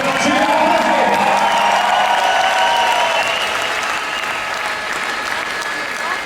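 A large crowd at the MotoGP Sachsenring podium applauds and cheers, with a loud, dense wash of clapping, whistles and whoops sustained throughout, and a few voices calling out within the roar.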